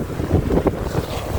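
Strong wind buffeting a small fishing boat out on the water, a steady low roaring rumble close to the microphone with gusty swells and no voices.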